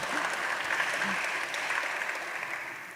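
Soft, even applause from a small audience runs throughout at moderate level, gently fading toward the end.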